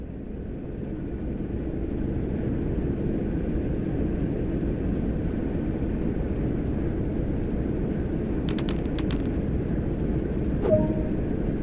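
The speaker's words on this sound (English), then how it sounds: "With the locomotive running" A locomotive engine runs in the Train Sim World video game, a steady low rumble held evenly throughout, with a few brief clicks and a short tone near the end.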